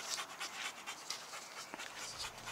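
A dog panting nearby outdoors, quick soft rhythmic breaths repeating steadily, fairly faint and alone.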